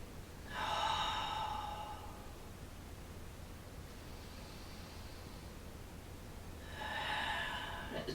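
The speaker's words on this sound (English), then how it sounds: "deep breaths here." Two slow, deep breaths taken during a lower back stretch, each a soft, airy rush of air, one at the start and one near the end, close and alone with a quiet pause between them.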